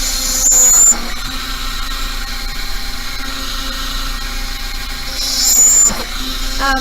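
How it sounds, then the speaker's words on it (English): A small power drill bores a hole in a beaded pendant at a jewelry bench, a steady high whine with brief louder bursts at the start and near the end. "That's actually proper drilling technique."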